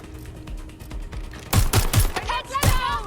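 Bursts of gunfire from Watch Dogs Legion: a few sharp, loud shots in the first moments, then several close, punchy cracks in quick succession over an ambient background.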